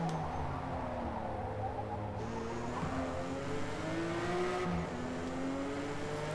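A BMW super sedan with a dual-clutch transmission races in Forza Motorsport, its engine droning steadily and rising in pitch, with quick gear shifts breaking the note and a faint tire squeal, loud and continuous.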